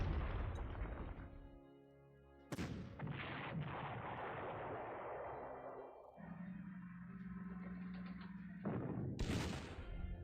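In the World War II strategy game Panzer Corps, a Panzer IV tank fires heavy cannon shots: two loud booming blasts with long rumbling decays, then a third sharp blast near the end, with no talking.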